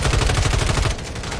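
Rapid, loud gunfire from a weapon in a multiplayer shooter game, a dense burst of repeated shots for about a second before easing into a quieter, rumbling tail.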